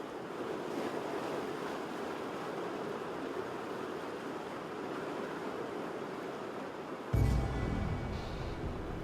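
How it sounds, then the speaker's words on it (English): Ocean surf rolls in with the incoming tide along a Galapagos shore, a steady roaring wash under wind, then a heavy wave crashes close by near the end. "In no time, the tide flows in along with ferocious waves."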